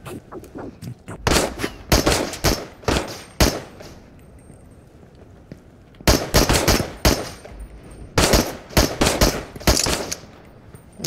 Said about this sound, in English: Oh, we got three of them shooting at us.